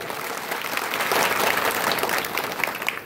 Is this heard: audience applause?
yes